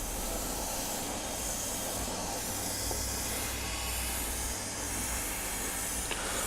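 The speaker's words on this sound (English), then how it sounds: "we're just going to start spraying each part from every angle" Model kit parts for a Shadow Fox Zoid being spray painted in a spray booth, a continuous close airy hiss that holds steady throughout over a low booth fan rumble.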